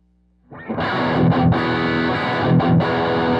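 An electric guitar played through a distortion pedal set for a saturated tone, a loud, saturated chord strummed after a brief quiet start, with short rhythmic dips as the chord is re-struck.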